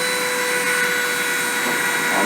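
A high-speed spindle turning at 30,000 RPM while depositing fine tantalum wire onto aluminum oxide gives off a loud, unbroken whine with steady tonal hums layered over a hiss.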